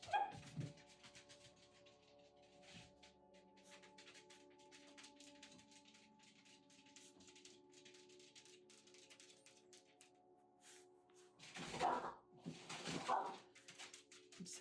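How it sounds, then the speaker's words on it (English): Dogs play with cats beneath a door in a home hallway, a few faint yips and scuffles in the distance, then two louder bursts near the end over a low steady hum. "I'm sorry if you guys can hear my dogs."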